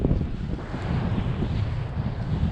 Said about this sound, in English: really, really windy out here today.